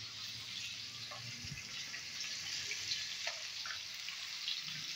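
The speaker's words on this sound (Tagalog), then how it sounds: "Pag nagprito ako ng daing, hindi ko siya sabay-sabay na tatlo na ilalagay agad sa" Daing, dried fish, frying in a pan, a steady close sizzle and hiss filling the whole stretch with small crackles and pops scattered on top.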